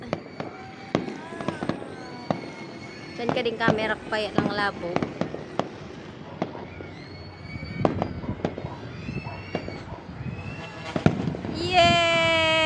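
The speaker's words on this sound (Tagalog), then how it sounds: "Ayan, nagpa-fireworks na po." Fireworks crackle and pop in scattered bursts with sharp bangs at a hot air balloon festival in Bicol, while people chatter and cheer nearby.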